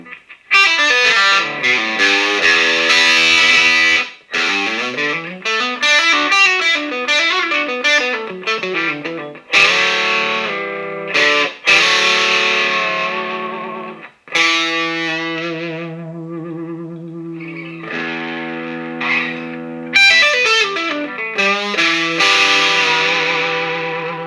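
PRS SE CE 24 electric guitar played through mild overdrive with the reverb switched off, bright distorted chords and fast runs ringing loudly with short pauses between phrases, no talking.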